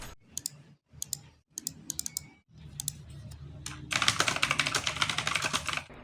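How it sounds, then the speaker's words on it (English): Logitech G203 gaming mouse clicked loudly in quick bursts of sharp, close clicks, with a dense run of rapid clicking toward the end over faint room noise; no talking. "the mouse click is incredibly loud"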